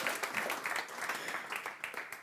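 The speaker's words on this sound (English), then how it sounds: "Yes, we can have applause for that." Audience applause at a panel event on climate change and youth: a steady patter of many hands clapping at moderate loudness, continuous throughout with no talk over it.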